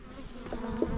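Honeybees buzz steadily around an open hive while frames and foundation are being worked, a dense close insect drone with a few louder passes near the end, and no one speaking.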